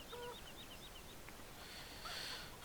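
A chicken clucks in Farming Simulator 2017. A few faint clucks and chirps come early, then a brief hiss follows, all over a constant farmyard ambience with no talking.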